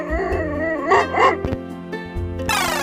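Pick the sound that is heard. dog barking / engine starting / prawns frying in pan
dog barking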